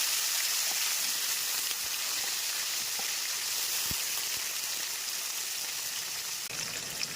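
Chopped large onion frying in hot oil with cumin and sugar, a steady close, dense sizzle with faint crackles throughout and no talking.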